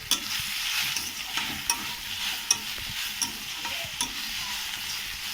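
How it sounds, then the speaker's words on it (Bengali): Drumstick flowers frying in mustard oil in a pan, a continuous sizzle with regular scraping taps from stirring, close and moderately loud without talk. "এরকম ঝরঝরে করেই ভেজে নিতে হবে"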